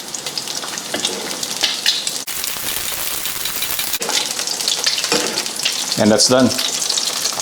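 Thin-sliced beef tapa fries in hot oil in a pan, a continuous dense sizzle with brief stirring clatters and a louder crackling burst toward the end; a short spoken phrase is heard.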